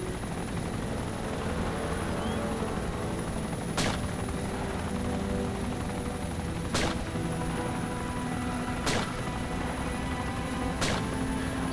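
Helicopter rotor and engine drone steadily loud in DayZ as it comes in to land at an airfield, a constant dense whine and thrum with a few sharp cracks popping out at intervals.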